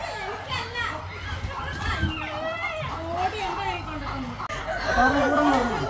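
A chicken clucks and crows around a home yard while children chatter and shout excitedly nearby, their voices largely overlapping the bird calls.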